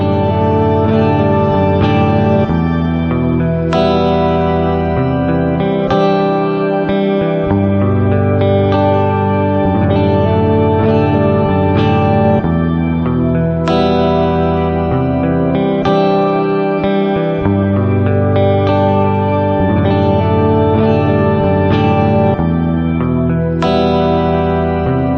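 An electric guitar runs through the reverb programmed on a Boss GT-1000 pedal, with sustained chords and picked notes ringing out into a long, lush echoing tail. The playing is loud and steady, and no one speaks.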